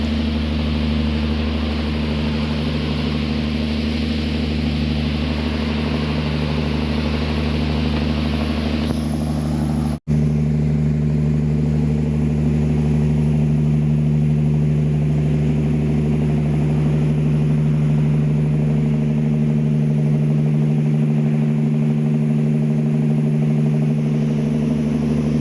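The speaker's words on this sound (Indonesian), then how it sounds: "terdengar suara gaduh seperti bunyi mesin generator dari arah pulau" A steady generator engine drone at an island power station on Lae Lae Island hums continuously at close range, loud and unbroken, with a strong low rumble throughout and no talking.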